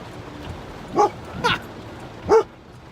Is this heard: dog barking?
yes